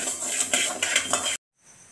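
Roasted rice scraped from a pan onto a plate for kadale bele payasa, quick metallic scrapes and clinks of a spoon against cookware, close and loud, then a sudden cutoff to near silence.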